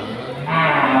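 A single short moo rises out of the market noise at Pasar Kliwon cattle market in Kudus, close and loud against a busy background.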